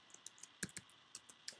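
Light clicking keystrokes on a computer keyboard, about a dozen soft taps in an irregular typing rhythm, quiet and close with no talk.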